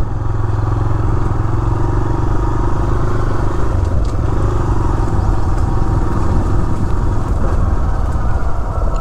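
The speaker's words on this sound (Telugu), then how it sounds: "బండి వెళ్తుందో లేదో చూద్దాం." A motorcycle rides along a rough rural path toward a dam, its engine droning loud and close throughout while the bike clatters and rattles over the uneven ground.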